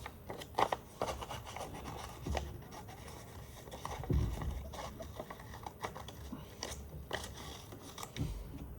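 Scissors cut out paper flowers in short snipping and rustling bursts at close range, fairly quiet, with brief pauses between cuts.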